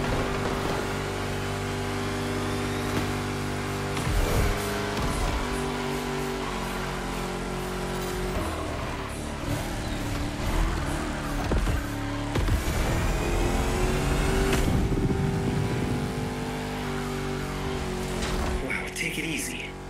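A Chrysler SRT8 in a The Crew Motorfest race, its engine roaring loud and steady for the whole stretch, with the pitch rising and falling as it revs.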